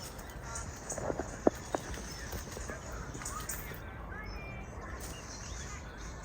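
Horses at a campsite, with a few faint hoof clops and knocks early on, heard at a distance under outdoor ambience while a person talks.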